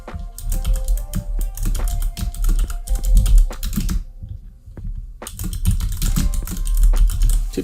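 A password is typed on a computer keyboard in quick, close, uneven keystroke clicks, with a pause of about a second partway through before the tapping resumes.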